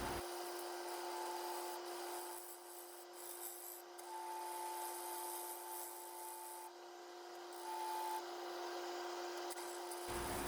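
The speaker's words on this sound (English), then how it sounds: "Switching now to the Carter & Son bowl gouge." A 1-inch Carter & Son bowl gouge cuts a lathe-turned lamp blank of wood, epoxy resin and pom poms, giving a continuous raspy scraping hiss over a steady motor whine, with no talk.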